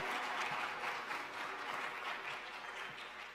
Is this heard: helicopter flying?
no